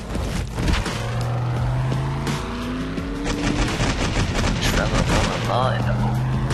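Gunfire aimed at a bear in the video game 7 Days to Die with the Darkness Falls mod, loud repeated shots and engine-like rumble blending with game music and a player's talk.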